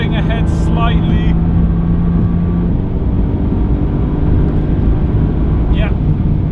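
A loud, sustained engine roar from a Mercedes-AMG GT R and a 700HP Audi RS4 B5 at full throttle in a drag race, with someone talking excitedly over the noise.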